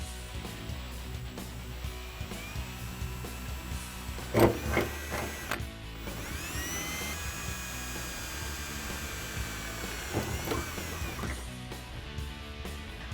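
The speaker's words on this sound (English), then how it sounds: "Make sure that you're drilling through both layers." Whirring power drill runs in bursts, its motor pitch rising and falling as it bites through both metal layers of a Ford Mustang's deck lid, with a few clunks between.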